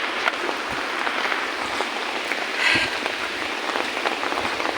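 Heavy rain falls in the mountains, a dense, steady hiss of drops striking surfaces close by, with a brief louder rush midway and no voices.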